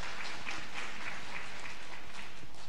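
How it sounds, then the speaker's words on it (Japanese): Applause from the audience at a homeopathy congress talk in Japan, a steady, even patter of clapping held at moderate, slightly distant level throughout, with no voices on top. "Thank you for clapping for homeopathy."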